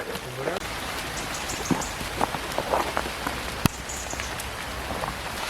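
Rain patters steadily on leaves and ground in a forest on a wet morning, a dense, even hiss of drops nearby, with a few brief sounds of movement and a sharp knock.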